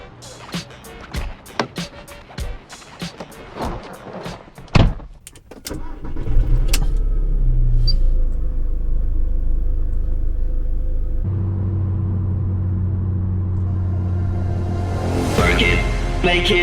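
A 2001 Audi A3 is heard from inside: scattered clicks and knocks give way to a steady, loud low engine and road rumble as the car drives along.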